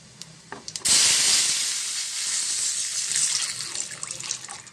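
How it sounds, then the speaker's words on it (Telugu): After a few soft clinks, water gushes into a hot pan with a loud, steady hissing rush that gradually eases. "దీంట్లో కొంచెం వాటర్ వేసుకుందాం"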